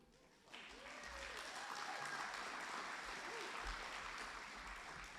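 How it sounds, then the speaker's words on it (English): An audience at a Women's Hall of Fame ceremony breaks into steady, sustained applause that starts abruptly and continues evenly, a dense wash of many hands clapping at moderate distance. "Let's give her a round of applause"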